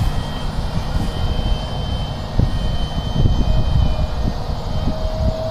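Electric ducted-fan RC F-15 model jet with a 64mm fan on a 4-cell setup flying past outdoors, a continuous loud whooshing roar that swells slightly as it passes.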